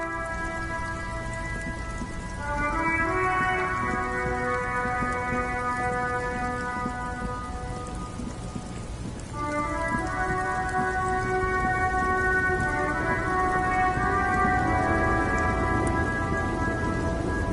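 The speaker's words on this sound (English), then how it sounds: "Stuck in the rain in a traffic jam." Steady heavy rain pours continuously in the video game Disco Elysium, during a traffic jam, with tonal horn-like tones rising and holding over the downpour twice.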